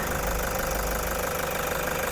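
A white 2016 Toyota Commuter 3.0D diesel van idles with its engine running, giving a steady, close, even rumble with a faint knocking texture and no talking.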